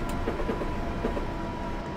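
A British train in Train Simulator on the Faversham to Rochester route rolls along with a steady, loud rumble and faint rhythmic wheel clicks, continuous and without speech.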